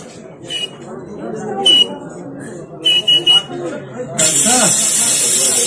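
A voice imitates CNG gas being filled into a vehicle, giving a loud, steady rushing hiss that starts abruptly after some short breathy hisses and murmured talk.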